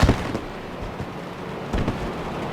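Celebratory fireworks bursting over Charlotte Motor Speedway after a street stock race, a few distant pops and booms over a constant crowd and outdoor wash.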